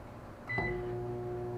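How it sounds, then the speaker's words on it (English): A microwave oven is started on high for a short heating time: a button beep, then a clunk and the steady, close hum of the running oven, with no talking. "Alright, now let's see, how long do we put in the microwave?"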